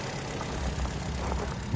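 A 2016 Skoda Octavia 1.6 automatic idling, a steady low engine hum with an even rumble and no revving across the short stretch.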